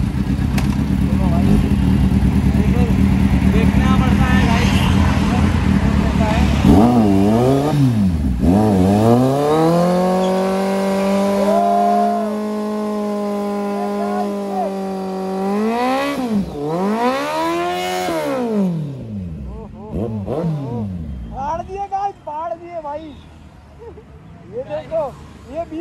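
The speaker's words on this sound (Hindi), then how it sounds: "बर्नआउट मारने जा रहा तुम्हारा भाई" A vehicle doing a tyre burnout during a street drag race, engine revving up and holding high with rising and falling pitch, loud and close, with people talking over it and the noise fading near the end.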